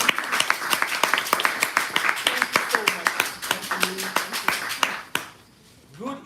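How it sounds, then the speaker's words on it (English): Clapping rises from a Toastmasters club audience greeting the evaluator at an evening meeting, a run of sharp, fairly close claps with a few voices mixed in, stopping abruptly near the end. "a round of applause for him."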